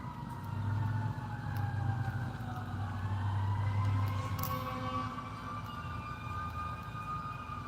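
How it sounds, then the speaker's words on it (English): An ambulance siren wails and sweeps in pitch as it passes outside, loud and continuous at first, then fading under a low traffic rumble. "There's an ambulance, guys."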